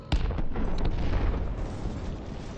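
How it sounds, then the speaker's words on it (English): Deep, rumbling explosions from the video game Battlefield 1 boom out, one sharp blast leading into a sustained roar of heavy low-end impacts and crackle, loud and continuous. "the explosions look really nice on this game"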